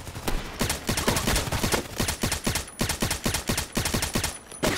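Automatic gunfire in the Contract Wars shooter game, a steady stream of evenly spaced shots fired in long, rhythmic bursts with brief pauses, loud and close, with no talking.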